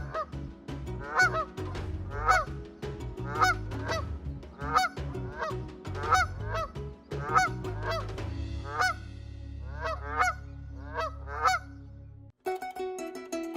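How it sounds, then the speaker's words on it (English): Honking calls from a flock of flamingos on Ugandan crater lakes repeat in a steady series over a low droning background, ending with a short, abrupt change in sound. "These crater lakes are home to flocks of flamingos, turning the waters pink during certain times of the year."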